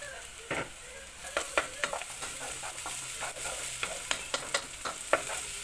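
Ginger garlic paste is stirred into frying onions, with repeated spatula scrapes and taps ringing out over a continuous low sizzle.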